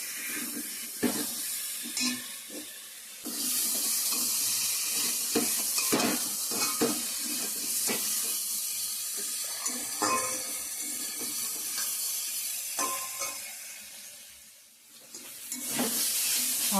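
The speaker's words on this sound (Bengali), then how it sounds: "জিরার গুঁড়া একটু কষিয়ে নিব ভালো করে গরম জল এক করে দিয়ে দেবো" Hot water pours into cumin-powder spice masala frying in a pan, hissing and sizzling loudly with stirring scrapes throughout, the sizzle rising then briefly dipping near the end.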